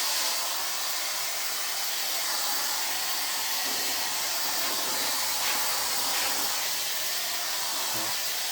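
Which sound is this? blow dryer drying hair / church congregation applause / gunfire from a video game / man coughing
blow dryer drying hair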